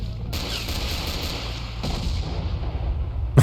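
Gunfire in the S.T.A.L.K.E.R. game, a steady, dense layer of shots and booms running the whole stretch at even loudness, with a sharper burst near the end.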